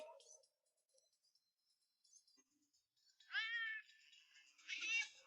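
A cartoon cat in a quiet room gives two short, high meows about a second apart, clear against near silence after faint earlier sounds.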